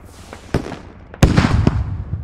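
A HEAT rocket detonates in the military shooter Squad, a sharp close blast with a brief rumbling tail, preceded by a smaller crack.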